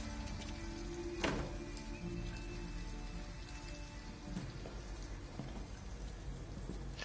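Steady, even rain pours throughout in the video game Detroit: Become Human, a dense wash of drops on surfaces with a single brief louder thud early on.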